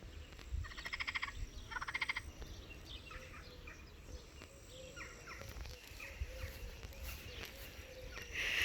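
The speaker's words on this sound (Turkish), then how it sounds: "Ötüyor hatta birisi şu an." Frogs croak outdoors in short rapid bursts, with a few other faint calls and light background rustling around them.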